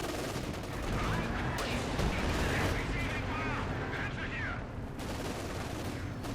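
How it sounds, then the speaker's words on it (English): Repeated anti-tank gun shots from 6-pounder guns in the video game Company of Heroes 2, heavy booms layered in dense battle noise with overlapping impacts, steady and loud throughout. "6 pounder guns opening up the steel punch now"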